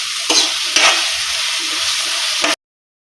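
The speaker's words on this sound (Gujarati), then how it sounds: "2 થી 3 મિનિટ સરસ સાંતળી લઈશું। આ પ્રોસેસ આપણે ફાસ્ટ ગેસમાં જ કરવાની છે" Onions sizzling and being stirred in a pan over high flame while making a fenugreek seed (methi dana) masala curry; a steady, loud broadband sizzle with two brief stirring scrapes near the start, cutting off abruptly.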